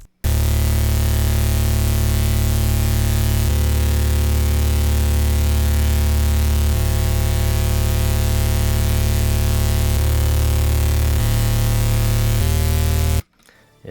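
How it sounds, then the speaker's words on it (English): A raspy, distorted synth bass from the Serum preset Bass Milk in the Florency Hardcore bank plays a sustained melodic line, changing notes every few seconds, loud and continuous for about thirteen seconds before stopping abruptly. "Sound number 2 is a bass from Florency Hardcore Serum Bank called Bass Milk."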